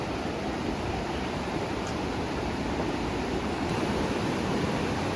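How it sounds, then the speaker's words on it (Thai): Water roars at Tat Ton waterfall in Tat Ton National Park, Thailand, near a suspension bridge over the falls: a constant, broad rushing sound, steady and moderately distant, with no talking. "สะพานแขวนข้ามน้ำตกตาดโตน"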